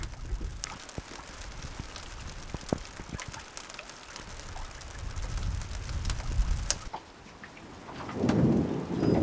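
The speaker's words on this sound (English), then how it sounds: "Once in a while the thunder strikes, and we're happy we're not out cruising right now" Thunderstorm with steady rain while a solar boat rests moored on a river, crackling raindrops throughout and a rolling thunder rumble building near the end, no talking.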